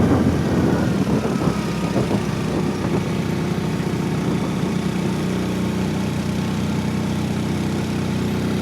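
A Hero Splendor motorcycle engine pulls up a steep hill road at Dim Pahar in Bandarban in second gear, a steady close, loud low drone with strong rumble throughout.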